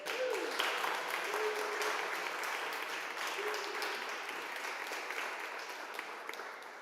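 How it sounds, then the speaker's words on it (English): Applause from a small audience at a TouchDesigner roundtable meetup in Berlin runs steadily for several seconds, soft and fairly distant, fading slightly toward the end with a faint voice underneath. "So maybe we have a little round of applause to welcome Markus to Berlin."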